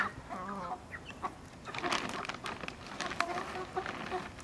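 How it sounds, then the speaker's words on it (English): Backyard chickens cluck and murmur in their pen, several soft, broken calls from nearby birds scattered through a quiet outdoor setting with faint background noise. "These are definitely backyard chickens."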